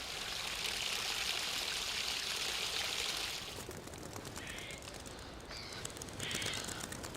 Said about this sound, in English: the water which has come down from the top of Table Mountain filtered down and is still running